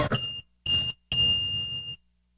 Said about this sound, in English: Is that an alarm? Yeah, that's an alarm.